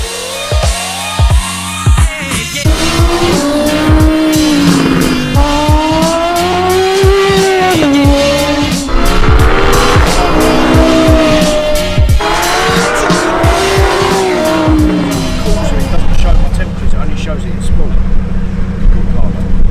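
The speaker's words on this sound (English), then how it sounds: "we're gonna take you guys along for the very first drive at Anglesey in the new GT3" A new Porsche GT3 is driven hard around the Anglesey circuit, its engine loud and close as it revs up and down through the gears, with tires squealing in the corners and voices talking over the roar.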